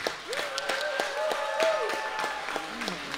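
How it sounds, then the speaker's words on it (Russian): A concert audience keeps up steady applause while someone speaks clearly over it, the clapping forming a continuous, moderately loud patter under his voice. "Ну и, конечно, аплодисменты мастеру Имраму"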